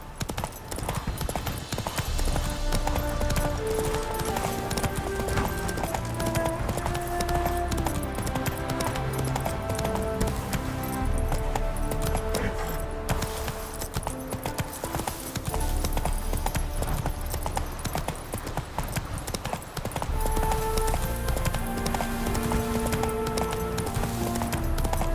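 Roach, the horse in The Witcher 3, clip-clops along at a steady walking rhythm under continuous game music, hooves distinct throughout with a brief gap midway.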